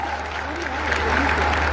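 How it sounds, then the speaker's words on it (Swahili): A crowd at a memorial gathering for Betty Bayo in Kiambu applauds the performing artists, a steady wash of clapping at moderate loudness. "Wapigieni wasanii wetu makofi mazuri"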